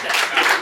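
An audience at a lake party applauds a man named Nate, giving a short, dense burst of clapping that is loud and close.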